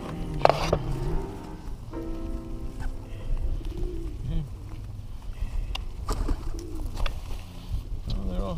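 Pigeons cooing in a park at Tule Springs, Las Vegas, Nevada: soft low repeated coos rising and falling throughout, close by, under outdoor background noise and occasional voices.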